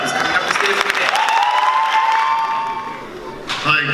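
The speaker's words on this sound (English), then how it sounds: "So please give a round of applause to Dr. Daya, who's coming up the stairs" An audience at a high school cultural show applauds steadily as the guest of honor comes up the stairs to the stage, with loud, dense clapping and some cheering throughout, easing slightly near the end.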